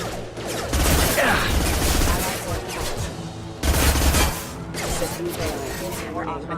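Gunfire in the sci-fi shooter Mass Effect 2, bursts of rapid shots and impacts layered with in-game effects, loud and dense, with a person talking over parts of it.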